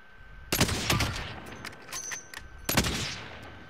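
Bursts of automatic gunfire in the video game Call of Duty: Modern Warfare, two loud sharp volleys a couple of seconds apart with scattered shots and game effects between.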